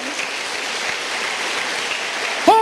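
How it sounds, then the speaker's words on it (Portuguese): A church congregation applauds in a steady, dense wash of clapping that holds evenly throughout, and a voice cuts in right at the end. "Vamos aplaudir Jesus de Nazaré."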